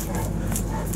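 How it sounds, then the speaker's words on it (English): A large dog barks briefly outdoors, close and loud, amid people talking nearby. "He's barking."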